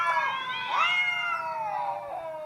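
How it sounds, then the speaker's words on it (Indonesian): Two cats fighting let out loud, drawn-out caterwauling yowls that rise and fall continuously at close range, with no voices over them. "Ini kucing lagi bertengkar."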